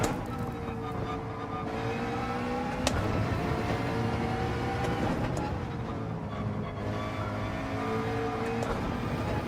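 A racing car in Gran Turismo 7 roars close by, its engine note climbing and dropping through repeated gear changes with a constant whine, alone without talk.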